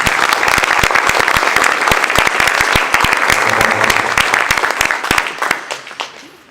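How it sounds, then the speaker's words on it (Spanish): Loud, dense audience applause for the Cuban writer Leonardo Padura at a tribute event, sharp claps over a steady crowd wash that tapers off at the end. "pido un fuerte aplauso"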